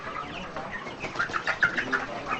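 Broiler chickens, 25 days old, in a farm house of about 3,000 birds, making a steady chorus of soft chirps and clucks that swell into brief louder peeps near the end, with no talking.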